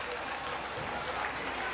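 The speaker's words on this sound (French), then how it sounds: "J'aimerais qu'on applaudisse nos musiciens" Audience applause for the musicians accompanying a youth choir at a concert of 350 young singers, heard as a steady, dense wash of clapping throughout, fairly distant and even in level.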